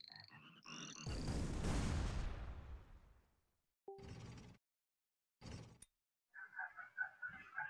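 Frogs croak in the Shellshock Live video game, several short bursts amid loud game explosions and noisy blasts, with a few quieter croaking calls at the end, no talking.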